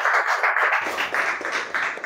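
Students in a Marathi grammar class clap loudly for themselves, a roomful of quick, uneven claps with a sharp burst at the start that keeps going steadily throughout.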